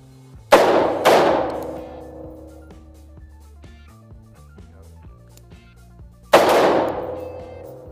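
Three sharp rifle gunshots fitted with a Ferfrans CQB muzzle brake ring out loud and close, two in quick succession and a third after a pause, each followed by a long decaying echo.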